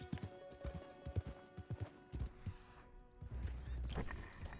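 Horse hooves in the video game Red Dead Redemption 2 clip-clop in an uneven, moderately close rhythm, followed by a softer rumbling stretch. No one speaks.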